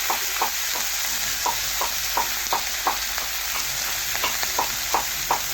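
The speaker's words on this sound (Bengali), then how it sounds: "এই দেখুন দিয়ে একটু নাড়াচাড়া করে মিশিয়ে নিলাম টমেটোর সাথে" Ginger, cumin, chilli paste and chopped tomato stirred in a sizzling pan for a vegetarian bottle gourd dish. A spatula scrapes in a regular rhythm of sharp taps over a constant frying hiss, close up, with no talking.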